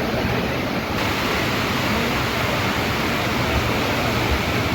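Torrential rain pounds a railway platform, a thick, steady hiss and roar filling everything at high volume, unbroken for the whole stretch with no voices.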